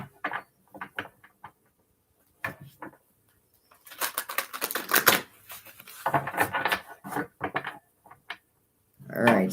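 Tarot cards riffle and flap in several quick bursts, with short pauses between shuffles, close and crisp.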